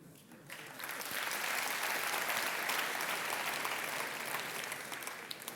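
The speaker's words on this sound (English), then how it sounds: "That applause was for conic gradients." Warm applause from a conference keynote audience swells after a quiet start and holds as an even, dense wash of clapping.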